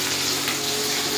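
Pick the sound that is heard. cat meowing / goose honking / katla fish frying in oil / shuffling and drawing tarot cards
katla fish frying in oil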